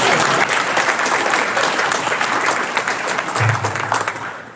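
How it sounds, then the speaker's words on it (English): Applause from the audience at a senior awards banquet, a dense, steady wash of clapping hands that fills the room at full strength and eases slightly toward the end. "Let's give him a round of applause."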